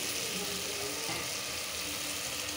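Rohu fish head searing with spices in a hot pan for a muri ghonto curry, a steady dense sizzle with a soft frying hiss throughout, fairly quiet and continuous with no talk over it.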